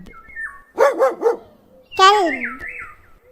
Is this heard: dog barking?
yes